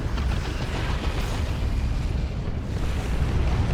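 A rocket run in Dawn of War 2 erupts as a dense, continuous rumble of explosions, loud and sustained from start to finish.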